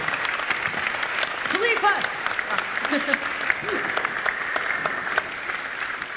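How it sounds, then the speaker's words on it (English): Steady audience applause fills an award ceremony hall, a dense wash of clapping throughout with a voice or two briefly audible beneath it. "a big, big welcome and a big applause"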